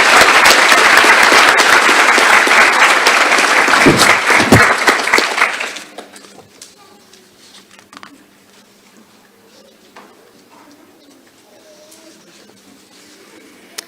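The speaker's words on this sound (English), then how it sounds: "Let's give all 5 of these recipients a final round of applause." A nurse anesthesia recognition ceremony audience claps loudly and densely for about six seconds, then the applause fades into quiet room noise with a few faint stray sounds.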